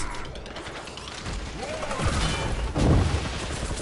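Smart bombs go off in the Guardians of the Galaxy video game, a dense burst of blasts and crashing debris over a steady din of game combat, with a louder boom near the end.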